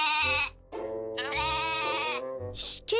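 A cartoon goat gives several loud, wavering bleats in quick succession, close and clear with short pauses between calls, with a faint musical backing underneath.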